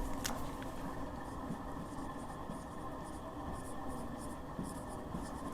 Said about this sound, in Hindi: इसकी डेफिनेशन लिखते हैं।